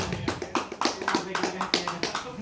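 An audience claps in a quick, uneven run of sharp slaps lasting a couple of seconds, moderately close, with a voice speaking among them.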